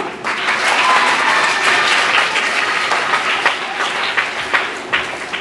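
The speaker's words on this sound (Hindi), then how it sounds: "तालियां" Sustained applause from a crowd of schoolchildren at a government school charity event, loud and steady for several seconds before thinning into scattered claps.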